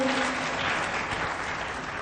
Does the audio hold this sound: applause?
yes